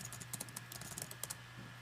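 Rapid typing on a computer keyboard, a run of light, irregular key clicks close by against a quiet background with a faint steady hum.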